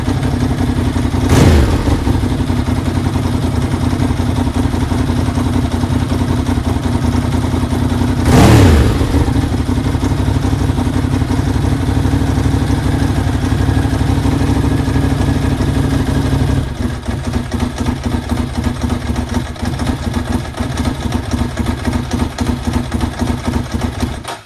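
A Ducati Monster 900S motorcycle engine runs steadily at idle, a loud, even mechanical drone with two brief rev-like swells early on and a choppier, pulsing idle toward the end, with no talk.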